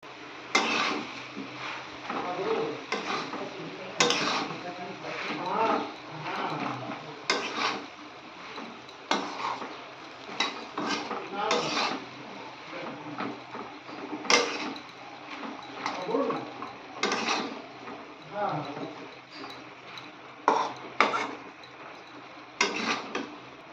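A utensil stirs and scrapes Malabar spinach greens with potato, pumpkin and jackfruit seeds in a pan, repeated metallic scrapes and clinks in an irregular rhythm with a voice talking faintly in between.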